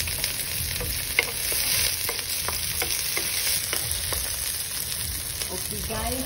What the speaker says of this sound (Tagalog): Saute the garlic, onion. And then tomatoes, the spring onions